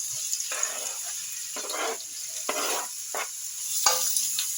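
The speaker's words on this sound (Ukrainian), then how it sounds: "Буду поки що помішуючи смажити" Chopped onion sizzles and crackles steadily in a hot frying pan, with repeated scraping bursts as it is stirred, close and fairly loud with no talking.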